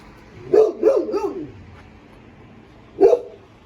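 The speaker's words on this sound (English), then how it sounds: "Don't mind the fucking annoying ass dog." A dog barks three times in quick succession up close, then once more after a pause, in an outdoor setting near a parked car.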